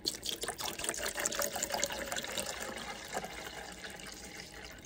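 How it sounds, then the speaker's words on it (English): Water pours into a measuring cup while mixing Rodinal film developer, a close, splashy, bubbling stream that starts strong and gradually softens as the cup fills. "fill this measuring cup to 24 ounces of water and then fill this little one with 1 ounce of Rodinal and another ounce of water"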